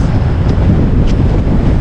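Strong wind buffets the microphone in a constant roaring rush, loud and close, with no voices.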